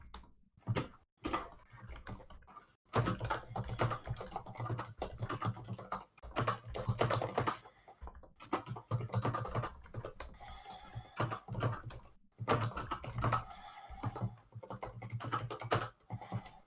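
Typing on a computer keyboard, rapid close clicking in uneven bursts separated by short pauses, continuing throughout at a moderate level with no talk.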